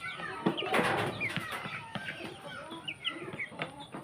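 Fayoumi chickens cluck and squawk at close range during an afternoon feeding, with busy overlapping calls, a few sharp louder bursts and brief wing flaps.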